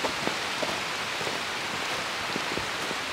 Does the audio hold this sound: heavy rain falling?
yes